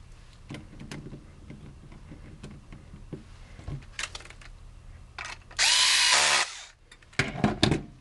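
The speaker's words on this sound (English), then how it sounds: "I'm going to drill it back into place" A power drill whirs in one short, loud burst to drive a screw fixing the end cap of an HP Q2612A 12A toner cartridge, amid nearby clicks and handling noises of parts being fitted.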